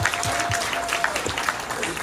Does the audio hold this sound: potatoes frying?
no